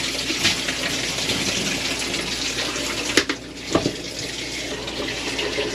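Cold water pours in a steady, close rush into an East Doll folding washing machine while it fills, with two short splashy bumps partway through.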